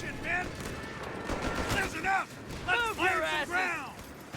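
Bursts of rapid anti-aircraft gunfire crackle amid video game sound effects, with whistling sweeps and a voice talking over the mix.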